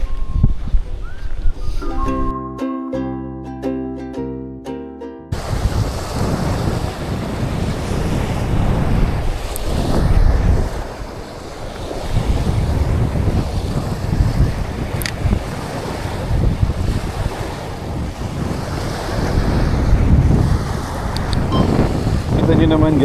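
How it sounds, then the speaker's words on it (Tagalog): Strong ocean surf and gusting wind on a Grande Island beach roar continuously and loudly, with heavy wind buffeting the microphone; a short burst of music plays at the start before the waves take over. "Kita nyo naman guys, lakas ng alon."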